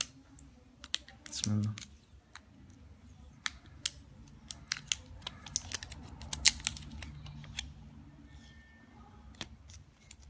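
A mobile phone's battery compartment is pried open with a string of sharp plastic clicks and small taps scattered over several seconds. One low voice speaks briefly near the start.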